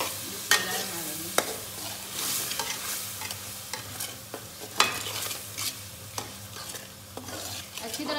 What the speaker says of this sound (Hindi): तो जी मैं शामिल करके हम सारे मसाले को भुन लवेंगी चंगी तरह